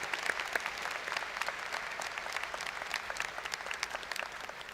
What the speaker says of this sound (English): Please join me in a round of applause to show our appreciation for her leadership